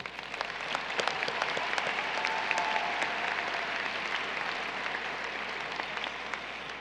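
A large graduation audience at a high school ceremony applauds Honor Society graduates, a steady, even wash of many hands clapping that sustains for several seconds in a big hall.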